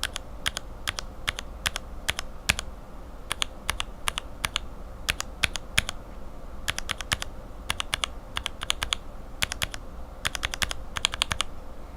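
Mechanical switches with Cherry bottom housings clack under steady typing, crisp close keystrokes coming in short clustered runs with brief pauses between them, alone without speech.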